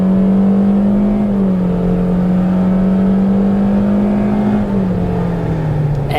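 A 2017 Toyota Corolla iM engine hums loud and steady from inside the cabin under hard acceleration, its drone holding a fairly even pitch with only slight rises and dips amid road noise.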